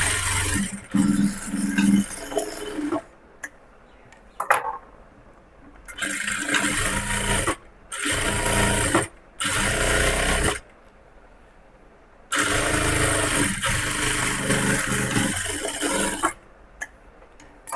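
Sewing machine stitching a 1/4-inch seam on a blouse, running in several loud bursts of rapid motor-driven stitching separated by short pauses, with no talking.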